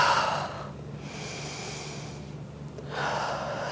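Slow, audible breaths drawn in and pushed out during a Sun Salutation B yoga flow, close and soft with a steady airy hiss, a quieter pause in the middle before the breathing swells again.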